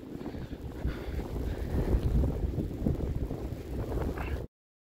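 Strong winter storm gusts around 70 km/h roar across a lake at Saint-Augustin, buffeting the microphone with a continuous dense rumble that swells and eases before cutting off abruptly.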